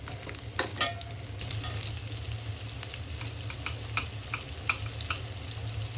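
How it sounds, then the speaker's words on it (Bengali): Chopped onions fry in oil with cardamom, cinnamon and bay leaves for a beef tripe curry, giving a steady, even sizzle broken by occasional light scrapes and clicks of stirring. "পেঁয়াজ হালকা করে ভেজে নিলাম।"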